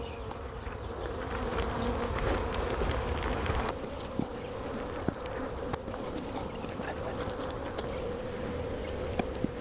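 Honey bees buzzing around an aggressive hive during queen cell work, a dense continuous drone of many wings close by, with occasional faint clicks and handling noises.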